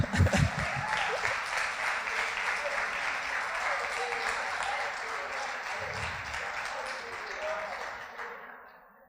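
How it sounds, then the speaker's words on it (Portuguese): A church congregation applauds steadily for about nine seconds during a service, a few voices and cheers rising over the clapping before it fades out at the end. "Quer aplaudir para a vida de Daniel?"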